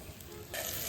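A roti goes down onto a hot tawa and breaks into a steady, close sizzle that grows louder halfway through and keeps hissing without talk.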